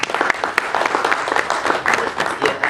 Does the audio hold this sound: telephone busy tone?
no